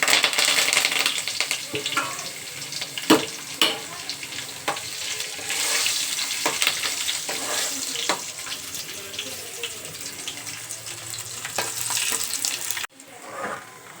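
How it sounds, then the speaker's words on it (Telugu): Garlic, mustard seeds, cumin, dried chilli and curry leaves crackle in hot oil, a dense sputtering hiss with sharp pops and spoon knocks, close and steady until it drops off near the end. "నూనె కాగిందండి. ఎల్లుల్లిపాయలు వేస్తున్నాను. చూడండి, ఎల్లుల్లిపాయలు, ఆవాలు, జీలకర్ర, ఎండుమిరపకాయ, కరివేపాకు."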